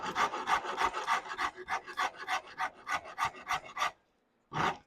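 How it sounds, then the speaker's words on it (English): A rasp smooths the curve of a wooden guitar neck in a dozen rhythmic rasping strokes, close and distinct, followed by a short pause and one final stroke. "Rather than tilting the rasp thusly, I'm tilting it a little bit counterintuitive"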